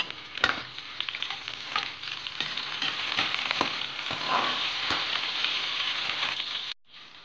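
Chorizo sizzles steadily in a little oil in a pan, a dense crackling hiss with sharp pops and scrapes of stirring throughout, ending abruptly.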